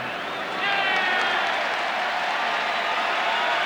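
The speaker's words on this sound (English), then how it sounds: "the crowd here cheering in jest as the Dodgers pick up their second out of the inning" Baseball stadium crowd at a Mets–Dodgers game cheering mockingly after a routine out, a dense sustained roar of many voices and claps rising after the first half-second and holding steady.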